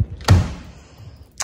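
A wardrobe drawer, the second one down, is pulled open with a short wooden slide and thump, followed by a faint knock a moment later; nearby, with no talking.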